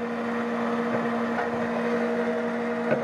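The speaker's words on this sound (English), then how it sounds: "We're draining out of the kettle through the heat exchanger here and then out to our fermenter." Steady mechanical hum of a brewery kettle draining wort through a heat exchanger into a fermenter, a constant tonal drone with pump-like whir and a faint clank near the end, no talking.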